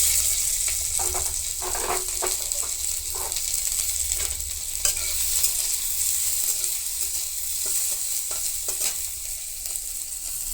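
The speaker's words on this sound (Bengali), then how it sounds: "সবজিগুলো ভাজা হতে থাক" Mixed vegetables frying in a small amount of hot oil for a vegetarian semolina poa, with a steady close sizzle and occasional stirring scrapes throughout, no voices.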